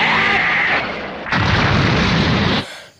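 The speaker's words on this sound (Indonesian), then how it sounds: "Yamcha, Krillin dan juga Tenshinhan membuat sebuah ledakan yang cukup besar di tempat itu." Large explosion from a combined energy attack in Dragon Ball Z anime: a loud roaring blast with a sudden surge of rumble midway, then cutting off abruptly into quiet.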